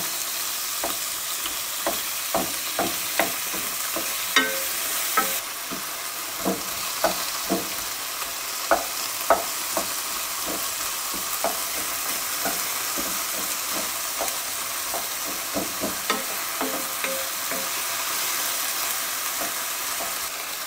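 Onion, garlic, chilies, ginger and five spice fry in a little oil for kung pao chicken: a continuous close sizzle broken by frequent sharp spatula scrapes and taps against the pan.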